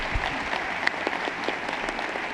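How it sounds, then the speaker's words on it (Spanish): An audience applauds panelists at the close of an insurance-industry panel discussion, giving a short burst of steady, dense clapping that carries evenly throughout. "Los invito por favor a que les demos un aplauso."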